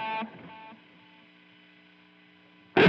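Delay repeats from a TC Electronic 2290 delay with the high cut pulled back, giving dark, muddy echoes that decay steadily after a brief note before a louder sound returns at the end.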